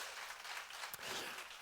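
A church congregation claps together during a Korean sermon, a dense, continuous wash of applause at moderate distance with no voice over it.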